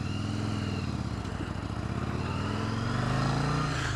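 A motorcycle rides along in Constable Country, its engine droning steadily and loud throughout with a slight rise in pitch toward the end and constant wind-like noise, no talk.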